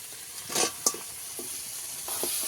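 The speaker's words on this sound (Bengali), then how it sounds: "এইবার আমি ভেজে রাখা কাঁকড়াটা দিয়ে দেবো।" Fried crab tipped into a thick masala gravy and stirred in a pan, soft sizzling with a few scraping and clattering spoon strokes, close and quiet.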